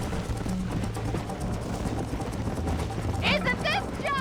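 Horse hooves clip-clopping in Red Dead Redemption, a galloping Western game, heard under a continuous low in-game rumble and music, with a few sharp rising calls near the end.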